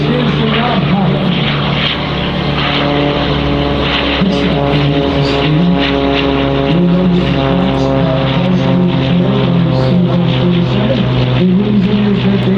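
An MXS-RH aerobatic propeller airplane performs at an airshow, its engine a loud, steady drone with shifting pitch as it maneuvers, continuous throughout with no talk over it.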